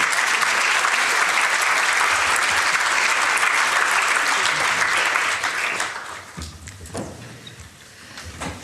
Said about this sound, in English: So a big round of applause to all the first speakers.